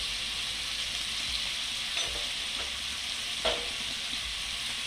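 Spices sizzle steadily in a pan while a pumpkin seed dish is cooked, a constant close hiss with a few faint stirring scrapes and no talk.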